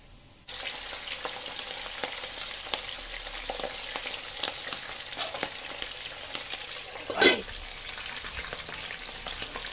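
Chicken frying in hot oil while making pork sisig, a steady loud sizzle with crackles and pops throughout, plus a brief clatter near the end.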